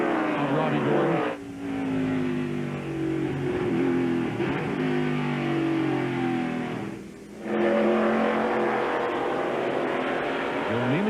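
A pack of NASCAR stock cars races for position on a road course, engines roaring close and loud with shifting pitch, a brief dip as a car drops away before the drone surges back.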